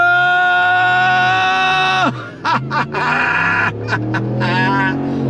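A 2026 Ram 1500 Limited truck with a Hemi V8 revs hard under full throttle, its loud, steady harmonic engine note rising and then shifting through gear changes with brief dips in the roar.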